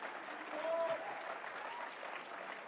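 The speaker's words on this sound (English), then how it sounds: "we should clap for Elon Musk" Audience at the CPAC conference near Washington, D.C. breaks into sustained applause, a dense steady wash of clapping from a large crowd that swells slightly near the start and holds without voices.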